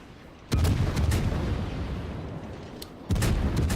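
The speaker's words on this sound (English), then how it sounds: "spamming the enemy battleships with your fast reload and your accurate German guns" Heavy naval gunfire from the Hindenburg cruiser's German guns in World of Warships: two booming salvos about two and a half seconds apart, each a loud broadband blast followed by a rumbling tail, with no voices.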